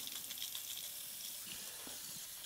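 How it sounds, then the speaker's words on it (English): Warm water running steadily from a tap for cleaning paint brushes, a continuous soft gush with faint splashes and gurgles, close and moderately quiet, with no talking. "You wanna get some warm water."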